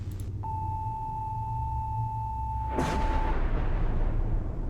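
A lightning strike in a video game arrives as a sudden loud crack and rumble. It follows a long, steady electronic beep tone and leaves a continuing low roar.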